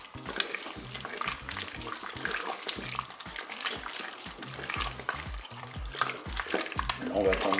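Beef bourguignon with cornstarch being stirred in a Cookeo multicooker: a steady close scraping and stirring with busy wet sizzling and bubbling underneath, continuing without pause.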